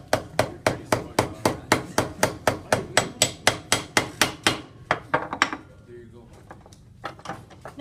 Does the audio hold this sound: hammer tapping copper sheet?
yes